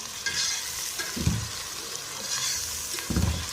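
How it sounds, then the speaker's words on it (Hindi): Chicken pieces fry in a pan for chicken chole, a loud continuous sizzle with a couple of deeper scraping stirs of a utensil against the pan, and no one speaking. "चिकन को अच्छी तरह फ्राई करेंगे। चिकन गलने तक हम फ्राई करेंगे इसको।"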